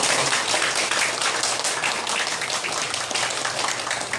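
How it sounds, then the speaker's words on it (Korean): Loud, close applause from an audience at a small library opening ceremony in Dongjak district, Seoul, honoring the district mayor; dense, continuous clapping throughout with no voices over it. "박수 한번 주실까요?"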